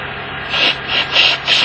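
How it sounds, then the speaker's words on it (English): Short hissing bursts of spray cleaner forced through a jet of a Kymco People 50 carburetor, three or four close, loud pulses with brief gaps, no talking. "That seems to be spraying quite well."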